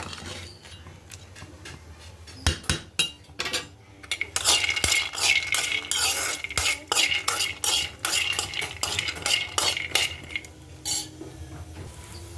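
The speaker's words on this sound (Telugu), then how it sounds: "ఇప్పుడు శనగపిండి వేసుకుందాం." Gram flour fries in a pan on a home stove while a metal spoon stirs and scrapes it, giving repeated clinks and scrapes in bursts with a constant low background hum.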